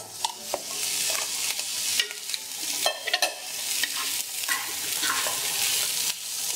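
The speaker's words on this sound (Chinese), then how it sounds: "这样轻轻的拌炒" Soybeans and dried bamboo shoots stir-fried in a wok with little oil, giving a steady close sizzle broken by repeated scraping and tossing strokes, with no voices.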